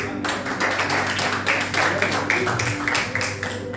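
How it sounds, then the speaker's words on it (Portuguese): A church congregation claps together in praise, a run of rhythmic, fairly loud bursts of applause filling the hall. "batendo salva de palmas para o Senhor."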